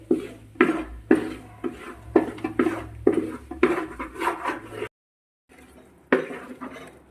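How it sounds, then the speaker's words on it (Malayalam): A pan of cooked ripe jackfruit is stirred hard with a utensil, giving a run of loud, rhythmic scraping knocks against the pan that stop briefly and then resume, with no talk over them. "നല്ല ശക്തിയായി തന്നെ ഇളക്കിക്കൊണ്ടിരിക്കണം ഇതാ ഇതുപോലെ"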